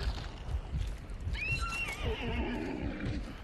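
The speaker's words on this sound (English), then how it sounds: "Yo, horse, shut the fuck up!" In a zombie video game, a horse neighs loudly in one long descending whinny over a busy backdrop of hoof clatter and rumbling game noise.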